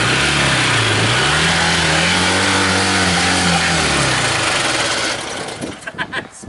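A car engine with a slight rod knock revs loud and close, its pitch rising and falling in long sweeps before dropping back to a rough, uneven idle near the end.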